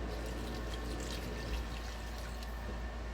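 Two cups of beef broth pour steadily into a cooking pan, a soft continuous liquid stream, close and fairly quiet, with no talking.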